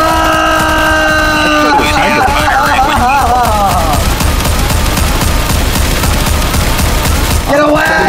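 In the Garry's Mod video game, a fast-firing AR rifle unleashes a long, loud, unbroken stream of gunshots that dominates throughout, with a brief tonal game sound at the start and end.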